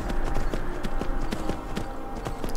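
A horse's hooves clip-clop in a steady walking rhythm in the video game Skyrim, close and distinct over a constant low ambient wash, with no talking.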